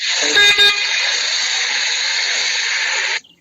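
A steady car horn blares for about three seconds, loud and continuous, with a brief double toot at the start before it cuts off.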